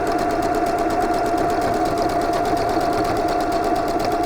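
Domestic sewing machine running steadily at close range, stitching back over the start of a fabric seam on pajama pants with a fast, even mechanical whir and needle rhythm, no voices.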